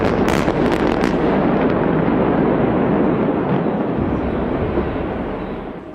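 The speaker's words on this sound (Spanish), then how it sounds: "Tras un fuerte estruendo, el símbolo del oscuro pasado de Génova quedó reducido a escombros." Controlled demolition blast bringing down the Genoa bridge, heard as sharp cracking detonations at first, then a sustained roaring rumble of collapse that slowly fades over several seconds.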